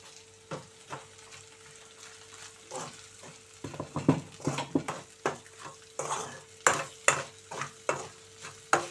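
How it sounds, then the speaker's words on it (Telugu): Sliced okra stir-fried in a pan, with a soft sizzle under repeated rhythmic scrapes and taps of a spatula against the metal. The strokes come at a steady pace and grow louder toward the end. "ఇంకా కాసేపు వేయించుదాం బెండకాయలు"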